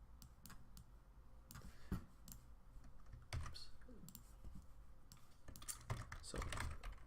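Code being typed on a computer keyboard, quick irregular bursts of key clicks and taps, faint and close, with a few louder strikes.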